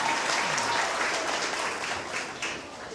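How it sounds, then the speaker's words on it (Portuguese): Applause from a crowd at an outdoor MDB political campaign rally in northern Manaus, steady and dense for the full three seconds, fading slightly near the end. "Uma salva de palmas para vocês que vieram"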